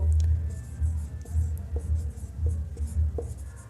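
Chalk or marker scratches and taps across a board during a physics lecture on electric charge and field, short strokes in an uneven rhythm, close and fairly loud, with no talk over it.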